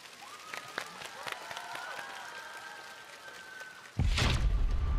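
A melodic stretch gives way near the end to a sudden burst of close, dense applause from a studio audience on a TV singing show, greeting two female singers.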